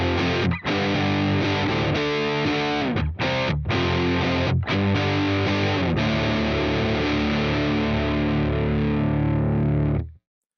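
Electric guitar recorded direct input with the ZI at its lowest impedance setting and the output gain turned up, giving a boomy, bassy, stuffy distorted tone that sustains steadily and loudly for about ten seconds with a few brief gaps between notes.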